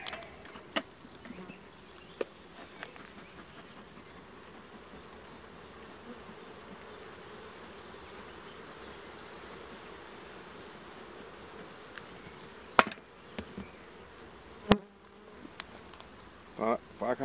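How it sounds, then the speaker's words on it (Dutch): Honeybees in a full hive give off a continuous low buzz throughout, with occasional clicks and knocks from handling the hive. "Zit vol met bijen."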